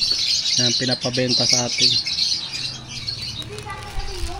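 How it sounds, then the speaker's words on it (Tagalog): Pet birds kept for sale chirp and tweet in a dense, high, continuous chatter close by, while someone speaks over them. "May naririnig ako mga ibon, ito pala."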